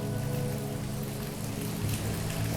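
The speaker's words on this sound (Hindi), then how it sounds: "हरिद्वार में तो बरसात भी बहुत अच्छी हो रही है। सुबह यहाँ 4 बजे से ही घनघोर बारिश के बीच में" Heavy rain pours steadily in Haridwar, a dense, continuous wash of drops drumming on surfaces close by, with no voices.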